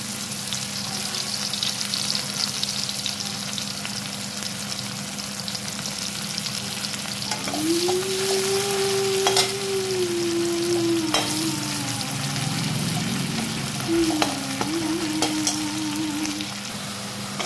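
Food sizzles and fries steadily in hot oil, a continuous crackling hiss, with occasional stirring scrapes and a brief tonal squeal midway.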